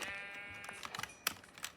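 Sheep bleating in a Minecraft-style survival game, a wavering bleat followed by a few short blocky game sounds, quiet, with no one talking.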